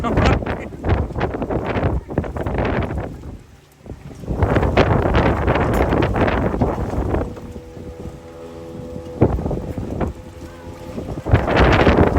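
A boat moves across open water on Pawna Lake near Lonavala, with steady engine and wind rumble buffeting the microphone, broken by brief dips and louder gusts.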